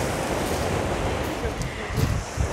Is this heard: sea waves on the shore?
yes